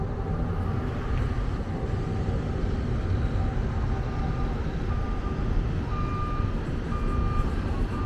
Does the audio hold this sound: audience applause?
no